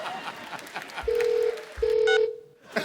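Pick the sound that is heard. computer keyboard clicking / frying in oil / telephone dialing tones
telephone dialing tones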